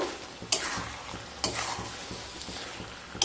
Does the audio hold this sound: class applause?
no